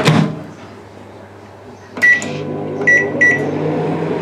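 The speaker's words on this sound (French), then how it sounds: "je vais les faire revenir au micro-ondes" A microwave oven cooking onions in a little olive oil runs with a low steady hum, broken by a handful of sharp bright beeps near the middle; nobody speaks.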